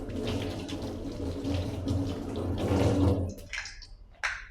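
Tap water runs steadily into a sink while hands are washed in a home kitchen, a loud continuous splashing rush that cuts off near the end, followed by a few faint clinks.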